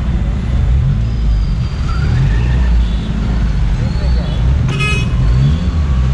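Road traffic in Jaipur streams past close and loud, a dense rumble of car and truck engines with a brief car horn toot partway through, while people talk over it.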